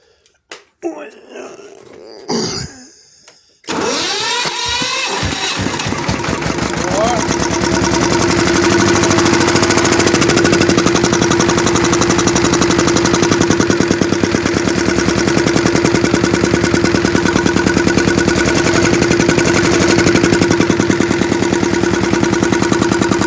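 A small tractor engine, started without the decompressor, coughs through a few rough attempts before catching, then runs loud and steady for many seconds, a dense continuous drone near the listener.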